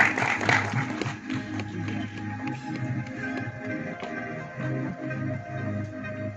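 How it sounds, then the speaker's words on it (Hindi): An audience claps at a Hindi film trailer launch event, dense steady applause sustained throughout with a faint musical hum underneath. "रेणु पिटी जी के लिए एक बार जोरदार तालियां हो जाएं प्लीज"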